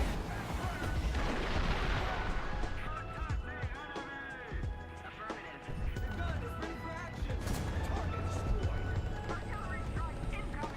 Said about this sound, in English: And we got artillery dropped on us, lovely